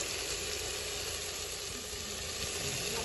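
Chicken curry sizzles steadily in oil as it is stirred in a village cooking setting, a soft, continuous frying hiss with faint scraping, fairly quiet and without talk.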